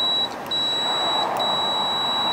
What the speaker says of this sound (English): the meter will beep.